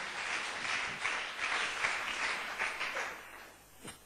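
A church congregation at a thanksgiving vigil claps hands together, a steady wash of applause from many people that holds evenly, then thins out toward the end.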